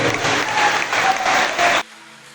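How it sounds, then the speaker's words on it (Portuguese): A church congregation claps loudly together in dense, sustained applause that swells in waves for almost two seconds, then cuts off abruptly into near silence. "Dá um aplauso forte ao nosso Deus aí."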